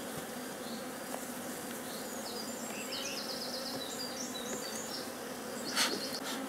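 Honeybees hum densely around an open hive frame where they are building comb and storing honey, a steady close buzz filling the whole stretch, with a few bird chirps faintly in the background.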